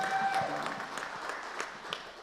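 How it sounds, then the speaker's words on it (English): Audience applause at a city council meeting, a steady wash of clapping at moderate distance that continues evenly throughout with a brief tone near the start. "Give that a round of applause"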